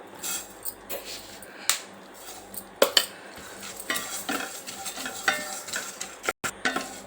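Dry fruits and sesame seeds frying in a pan for chikki, with soft sizzling and irregular scraping and stirring clicks of a spatula against the pan, close and fairly quiet.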